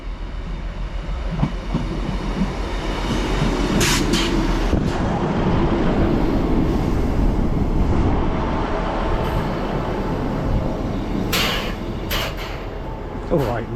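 A Doncaster to Hull passenger service, unit 158794, rumbles steadily through its run with continuous low engine and wheel noise, a few brief high squeals and clunks over the track, and occasional voices underneath.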